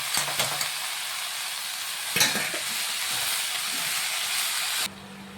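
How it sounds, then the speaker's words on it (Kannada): Washed soybeans tipped into onions already frying in a pan, bringing a steady loud sizzle and hiss with a brief clattering burst partway through; the frying noise suddenly drops away near the end. "ನೋಡಿ, ತೊಳೆದಿಟ್ಕೊಂಡಿರೋ ಅಂಥ ಸೋಯಾಬೀನ್ಸ್ ಹಾಕ್ಬಿಡೋಣ"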